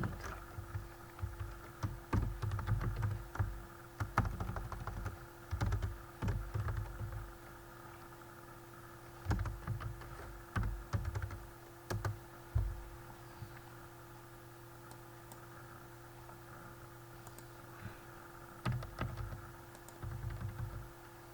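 Computer keys clatter in quick bursts of typing, pausing now and then before resuming, with steady close taps over a faint background hum.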